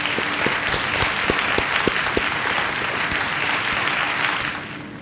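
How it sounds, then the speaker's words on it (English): Steady, dense applause from a high school graduation audience honoring the Class of 2020 graduates, a loud wash of many clapping hands that holds evenly for the whole stretch. "we'd like to congratulate you and give you an applause"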